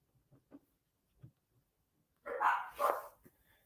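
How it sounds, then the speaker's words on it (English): Dogs barking indoors: a few soft, scattered yips and thumps, then two loud, close barks in quick succession near the end, with no talking. "Why are my dogs barking at air?"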